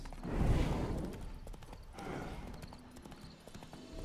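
Horse hooves clip-clop in the Witcher 3 Hearts of Stone video game. The steady, fairly quiet hoofbeats rise and fall in two swells across the clip.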